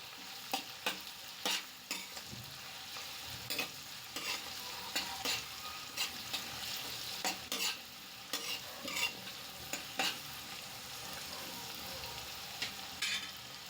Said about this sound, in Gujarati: મેં કાંદાને હું 2 મિનિટ માટે સાતળી લઈશ.